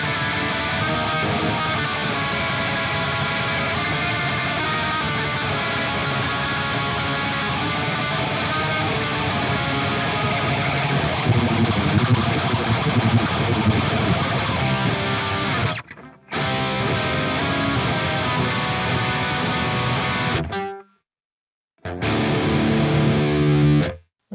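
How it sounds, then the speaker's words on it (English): Heavily distorted electric guitar plays fast, dense black metal riffs through the Neural DSP Archetype: Gojira plugin, continuous with two brief abrupt silences near the end. "See if I can play some black metal real quick."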